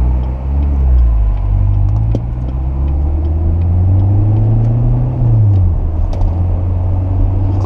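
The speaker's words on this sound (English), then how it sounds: "you're bringing up the motor RPMs" A 2015 Chevrolet Corvette Stingray with a manual gearbox, its engine note rising and falling through a rev-match, heard from inside the car as a steady loud rumble with no talk.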